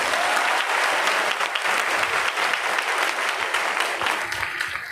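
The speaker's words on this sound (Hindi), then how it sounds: "हम एक बार इनका ताली बजा के स्वागत कर देते हैं।" An audience claps to welcome first-time attendees at a Vestige business event, a sustained, full round of applause from a large crowd that tapers slightly at the end.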